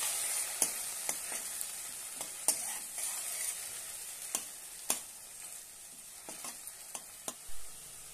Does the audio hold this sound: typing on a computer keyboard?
no